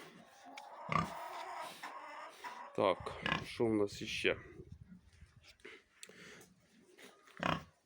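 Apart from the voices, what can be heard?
Yorkshire-Landrace cross pig grunting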